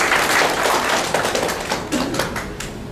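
An audience at a corporate meditation session claps, producing a dense, loud and continuous burst of hand claps that holds steady for the whole few seconds.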